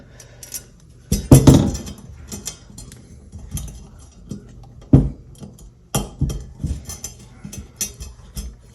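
Small square metal cage nuts are pressed into a 2022 Harley-Davidson Pan American Touratech skid plate, giving a series of sharp metallic clinks and taps, a few louder snaps among lighter rattles, close up.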